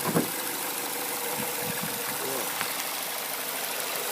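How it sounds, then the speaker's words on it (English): A 2015 Ford Fusion SE engine idles under an open hood, a steady even hum heard close, while a person talks over it. "Here's your engine."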